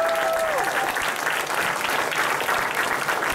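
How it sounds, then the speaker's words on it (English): Audience applause at a convention event for the AV crew, a steady dense wash of clapping throughout with a brief whistle at the start. "can we give them a round of applause?"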